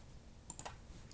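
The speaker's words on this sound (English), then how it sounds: "final step here is going to be typing all these into our calculator" A few quick, light key clicks from a calculator being punched in, spaced unevenly and faint against a quiet room.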